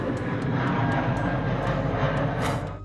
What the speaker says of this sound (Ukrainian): якраз зараз над мешканцями житлового комплексу пролітає літак